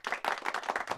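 A brief, faint patter of a few people clapping in quick succession at a socially distanced live jazz show, with no voices over it.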